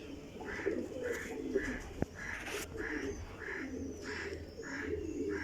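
A Teddy pigeon coos softly in a regular repeated pattern, about one coo per half second, close and faint, with a sharp click partway through and a low background hum.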